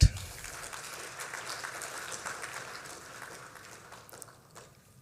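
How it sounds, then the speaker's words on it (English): An audience at a medical association inauguration ceremony gives a round of applause. The clapping is moderate and somewhat distant, steady at first, then gradually thins out and fades toward the end. "I think you all need a round of applause for that."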